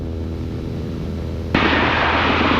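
A Beechcraft Bonanza piston engine drones steadily in flight, loud and close inside the cabin, then swells abruptly into a harsher, broader roar partway through.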